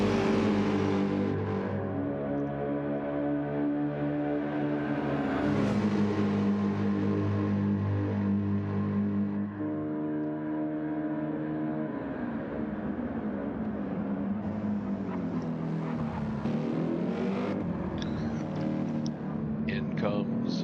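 A GT race car's engine drones and shifts pitch as it rolls down the pit lane at Spa in a 24-hour sim race, steady and loud beneath continuous commentary.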